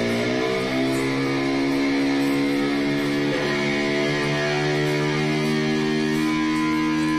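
Electric guitar run through a distortion effect pedal, a thick, saturated sustained chord ringing loud and close, with a brief bend or slide partway through and no voices.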